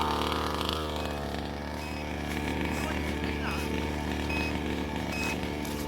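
A 1/5th scale RC car's small engine buzzes and rattles continuously, close and fairly steady with a few rises, while people talk over it.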